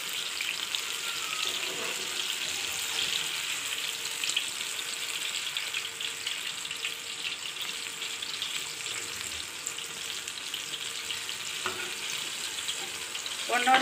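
Jackfruit puris frying in hot oil on a medium flame, a steady close sizzle and crackle running evenly throughout with a faint clink near the end.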